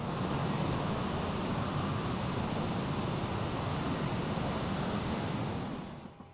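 Learjet 35A jet engines idling in the MSFS flight simulator, a steady broad roar with a thin high whine, constant and loud before fading out at the end.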